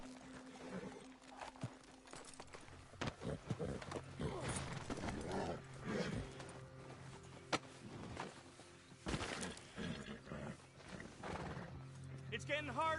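In Red Dead Redemption 2, a horse whinnies repeatedly while hooves clip-clop nearby, mixed with speech throughout.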